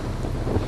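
Strong wind buffets the microphone outdoors while cycling, a brief, steady, low roaring rumble with no voice over it.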